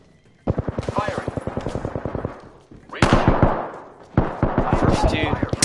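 Peacekeeper shotgun fire in Apex Legends comes as loud, fast strings of shots in three bursts, each a rapid rhythmic volley, close and dominant.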